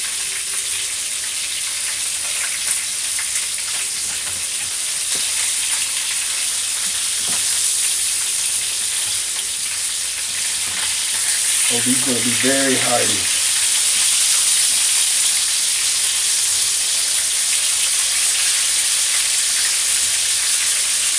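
Bone-in chicken thighs frying in a pan, giving a steady close sizzle throughout with a voice talking briefly over it.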